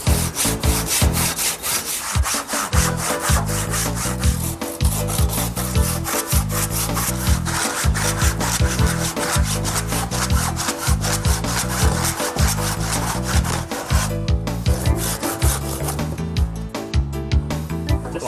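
Hand saw cutting through wood in a 1930s home, with fast, regular back-and-forth rasping strokes that are loud, close and continuous, and no speech.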